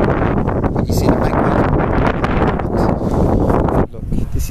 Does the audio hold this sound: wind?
yes